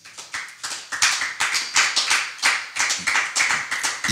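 A church congregation claps in steady, even rhythm at a lively worship gathering. The applause is loud and close and carries on for several seconds with no talking over it.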